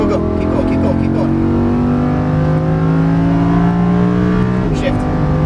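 A Lamborghini Huracan LP610-4 engine pulls hard on a track, a loud sustained rising drone with climbing harmonics and a brief shift near the end, while a voice speaks over it.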